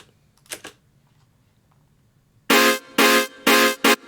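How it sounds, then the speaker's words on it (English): Short synth stabs for a dubstep remix: a faint pair of blips first, then four loud, bright, buzzy bursts in a quick rhythmic pattern, with no voices. "ended up replacing them with these like little stab sounds that I've made before"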